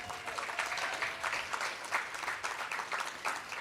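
Audience applauding a mayor at an affordable housing community opening, steady crowd clapping heard from a distance, fairly faint and even throughout.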